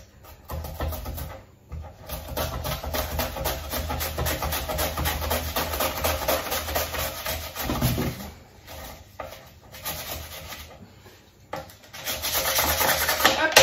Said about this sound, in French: Grâce à cette mandoline qui fait uniquement des rondelles, on a toujours la même hauteur de coupe et ça fait des rondelles très très fines